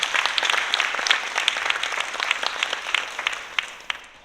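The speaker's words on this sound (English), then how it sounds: "Please give them a round of applause as well" An event audience at a Dancing Classrooms Philly end-of-year celebration applauds steadily, a dense wash of many hands clapping that gradually thins and fades toward the end.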